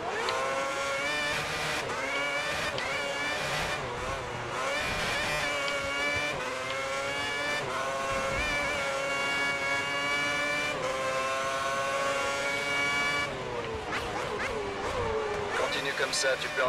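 A Formula 1 car engine in the racing game F1 2010 with a 2009 mod, Jarno Trulli's Toyota at Melbourne, whines and shifts through gears in repeated high revving sweeps under steady French commentary.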